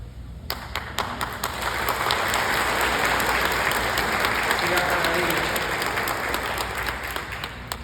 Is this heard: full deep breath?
no